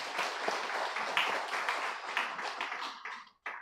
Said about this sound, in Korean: 우리 분이엘 찬양대를 위해서 박수를 한 번 더 격려하겠습니다